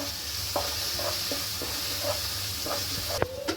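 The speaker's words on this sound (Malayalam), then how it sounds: "ഇനി ഒന്ന് ഇളക്കി കൊടുക്കണം." Chicken coated in turmeric powder sizzles steadily in a frying pan while a utensil stirs it, making repeated short scraping strokes over a constant close hiss.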